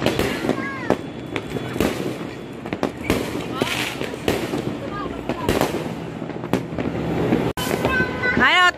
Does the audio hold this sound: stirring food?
no